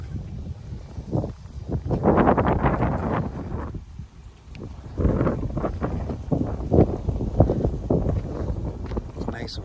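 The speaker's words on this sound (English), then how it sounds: "It's nice and windy out here." Gusty wind in Jamaica buffeting the microphone in uneven bursts, rising and easing, with a voice speaking intermittently over it.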